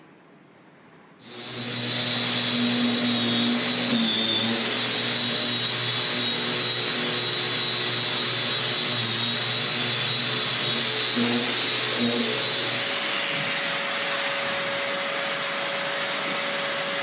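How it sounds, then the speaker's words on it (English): A large floor sander working wood, a loud, steady whirring drone that starts abruptly and holds evenly, then shifts slightly in tone near the end. "hired a large sander to do the bulk of the sanding"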